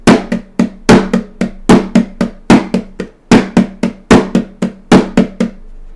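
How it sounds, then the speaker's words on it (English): A drum beat in 6/8 time plays alone, loud and close, with steady repeating groups of sharp hits and a low pulse under each group, a pattern that repeats right through. "A 6/8 beat is going to sound something like this."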